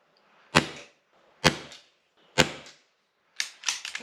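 Air rifle fired tethered from full power: sharp close shots spaced about a second apart, each with a short metallic ring, ending in a quick cluster of clacks and mechanism noise.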